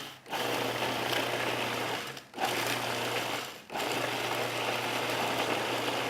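A food processor chopping peppers in short pulses, a loud steady motor whir broken by two brief pauses, close up with no talking.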